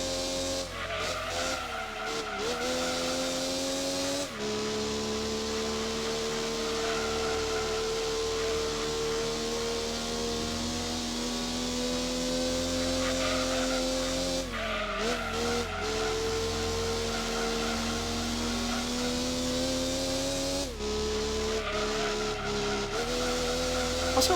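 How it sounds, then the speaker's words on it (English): A race car engine in Gran Turismo 2 on the PS1 drones steadily with shifting pitch, broken by several tire squeals and skids at gear changes and corners, loud and close with no talking. "the sound of this car kind of reminds me more of a Honda NSX"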